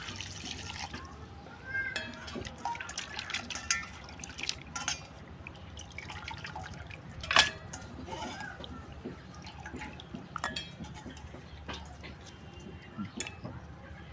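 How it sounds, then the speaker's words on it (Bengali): Water poured over cut pigeon meat to wash it, a soft running, dripping splash with scattered clinks and one sharper knock, fairly close but quiet beneath steady room noise throughout. "এখন গোস্ত ধুয়ে নেব ধোয়ার জন্য পানি দিয়ে দিচ্ছি"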